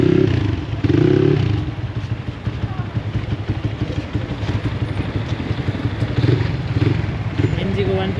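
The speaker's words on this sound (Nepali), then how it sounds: "ड्यानियल भाइले बाइक उडाउनु लागेको छ" A motorcycle engine rumbles and revs in bursts close by, with clattering and people talking over it.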